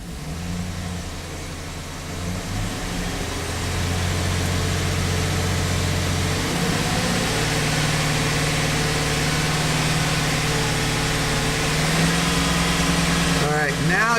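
A Chevrolet Silverado engine idles, then revs up toward 2,500 RPM, and a steady, higher engine drone holds for several seconds before a faint chirp near the end; no voices break in.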